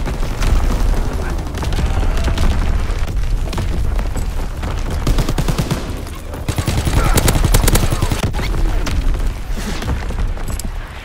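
Call of Duty WWII battle audio: a dense, loud, continuous wall of gunfire bursts and booming artillery blasts, with shouted in-game voices mixed into the chaos.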